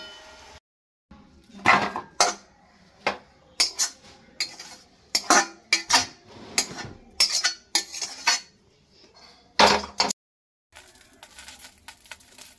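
A metal wok and other cookware are handled in a home kitchen while a Bengali bharta is being made, giving sharp, irregular clanks and clinks close by with short silent gaps and no talking.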